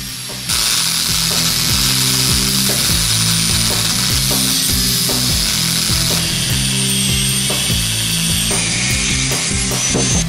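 A power tool shortens an old steel piston for an English wheel build in a custom bike workshop: a loud, continuous high whine with a steady rhythmic grinding pulse running throughout, close to the microphone.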